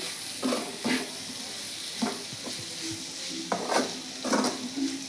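Crushed garlic fries in a pan for a drumstick-leaf fry, with a soft steady sizzle broken by several clinks and scrapes of a spoon stirring against the metal.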